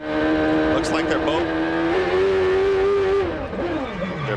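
A Champ Car race car at full throttle during qualifying at Cleveland in 2003, its high-pitched engine holding a loud sustained whine then dropping as it lifts, with commentators talking over it.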